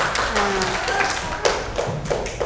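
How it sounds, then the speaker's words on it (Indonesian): Students in a classroom clap their hands for everyone, irregular scattered claps and taps rising in bursts over a murmur of voices, close and moderately loud. "Tepuk tangan untuk semuanya."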